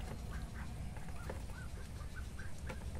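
Native ducks (itik) quacking in a flock, several short nasal calls scattered across a few seconds over a steady low rumble of background noise, moderately distant.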